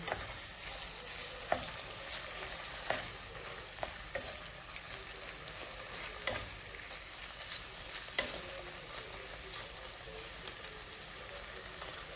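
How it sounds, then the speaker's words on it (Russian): Chicken sizzling and frying in a pan, with scattered scraping clicks of stirring over a steady hiss. "Далее добавляем курицу. И также помешиваем."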